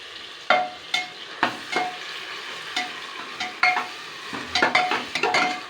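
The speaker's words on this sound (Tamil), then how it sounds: "எண்ணெயிலே நல்லா வணங்கணும்" Ingredients for Ambur biryani sauté in hot oil, a soft continuous sizzle punctuated by repeated scrapes and clinks of a spoon stirring against the pan, close and irregular.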